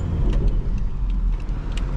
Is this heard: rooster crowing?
no